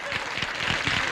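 A television studio audience applauding in a brief, steady burst of clapping, dense and fairly loud, with a voice faintly underneath.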